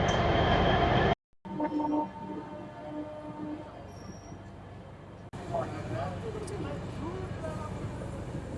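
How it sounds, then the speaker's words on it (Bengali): The 13150 Alipurduar–Sealdah Kanchankanya Express leaves Siliguri Junction, a low steady rail rumble with faint wheel squeals and creaks, heard from inside the train under a speaking voice. "13150 আলিপুরদুয়ার শিয়ালদা কাঞ্চনকন্যা এক্সপ্রেস ছাড়লো শিলিগুড়ি জংশন থেকে"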